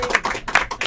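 Audience applause greets a guest on a talk-show stage, a short burst of fairly close hand claps rising and falling in quick uneven patters.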